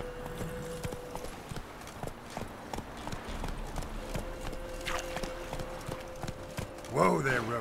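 Roach, the horse in The Witcher 3: Wild Hunt, clip-clops along in steady rhythmic hoofbeats under game music, ending with a loud whinny near the close.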